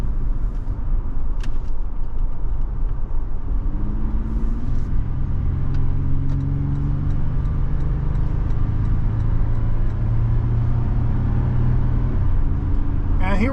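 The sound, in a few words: 2023 Toyota 4Runner driving up highway ramp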